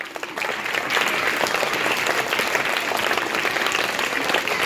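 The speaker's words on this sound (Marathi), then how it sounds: "जोरदार टाळ्या वाजवून स्वागत करा." An audience at an English-medium school function breaks into strong, steady applause to welcome a guest, a dense, even wash of many hands clapping together that holds for several seconds.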